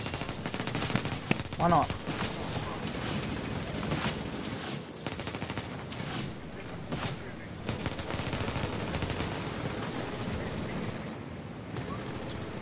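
Rapid video-game gunfire crackles in dense automatic bursts and overlapping shots for several seconds. A player's voice talks briefly over the shooting.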